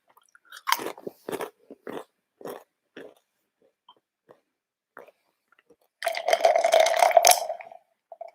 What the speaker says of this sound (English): Just have a couple more crisps.